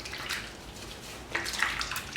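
A makeup brush being rinsed and scrubbed in a container of water, with soft, continuous sloshing and gentle swishes, close by and fairly quiet, and a slightly busier splash near the end.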